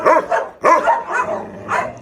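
A Gultair dog barks loudly and close by in a few sharp bursts, two strong barks followed by softer, shorter yips and a whine-like tail.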